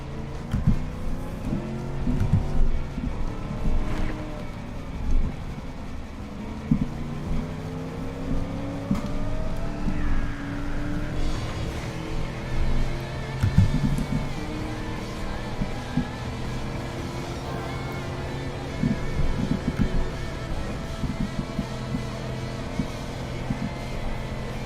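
A Mustang in Gran Turismo 7 revs up and shifts through its gears, the engine pitch climbing and dropping repeatedly over a long run of driving, steady and moderately loud with no voices.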